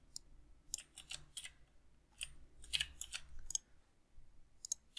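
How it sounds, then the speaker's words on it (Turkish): Sharp, close keyboard key clicks, including the F5 key being pressed, come in scattered taps and small clusters over a quiet background. "F5'e bastım."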